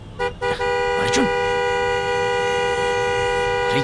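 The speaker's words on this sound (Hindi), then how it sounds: "क्यों हॉर्न बजा रहा है? बस कर यार।" A car horn in a Hindi film scene blares in a long, continuous, loud honk after a couple of short toots, held steadily to the end.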